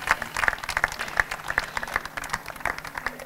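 Moderate applause from an audience at a book event in Ostuni, with irregular claps mixed with scattered individual hand strikes, fairly close and steady throughout the short stretch.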